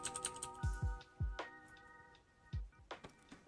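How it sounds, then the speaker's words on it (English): Computer keyboard typing heard faintly: a few soft irregular key clicks and taps, quiet and sparse, with other low background game sounds. "I don't know how much of my keyboard you're hearing, but I hope it's not too loud"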